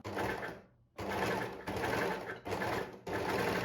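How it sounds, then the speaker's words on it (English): An overlocker stitches a seam in mesh stretch fabric in several fast, close bursts of rapid mechanical chatter, separated by brief pauses. "we're going to sew them up using the overlocker"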